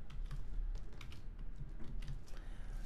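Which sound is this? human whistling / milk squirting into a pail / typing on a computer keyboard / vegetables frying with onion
typing on a computer keyboard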